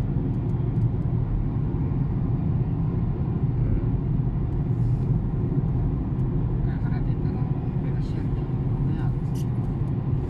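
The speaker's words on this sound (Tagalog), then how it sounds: "Ang mga traffic mga idol." Road traffic heard from inside a moving vehicle on a road trip from Alkhobar, a steady low rumble throughout with people talking over it.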